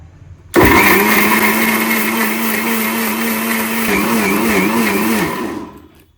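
A mixer grinder blending mango milkshake: it starts abruptly into a loud, steady whirring roar, the pitch wavering slightly as the contents churn, then winds down near the end.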